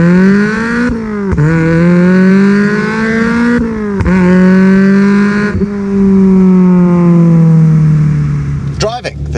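A 2.5-litre four-cylinder engine swapped into an NC Mazda MX-5 revs hard and climbs through several gears, each shift marked by a brief dip before the loud, buzzy drone rises again.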